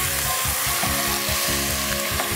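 Onion and capsicum frying in hot oil in a home kitchen, a steady close sizzle with a rhythmic scraping pulse from stirring running through it, with no talk.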